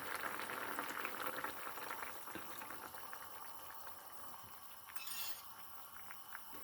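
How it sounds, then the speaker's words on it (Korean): Cheonggukjang stew with tofu and red pepper flakes bubbling steadily in a pot, a dense close simmer of popping bubbles with a faint clink of a utensil near the end. "지금 이제 이렇게 잘 끓고 있죠?"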